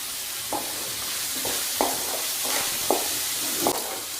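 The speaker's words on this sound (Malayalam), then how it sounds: "വെജിറ്റബിൾസ് സോട്ടായി കിട്ടിയിട്ടുണ്ട്." Vegetables with green chilies sauté in a pan for cauliflower fried rice, a steady sizzle broken by several sharp scraping stirs at irregular intervals, close and without voices.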